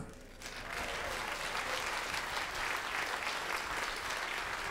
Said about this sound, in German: Ein Applaus für diese wunderbare